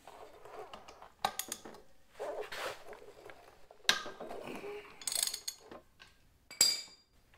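A ratchet on a 3/4 inch drive working loose the front axle nut of a Honda Africa Twin motorcycle: several bursts of clicking and metallic clanking with pauses between, close and fairly loud, no talking.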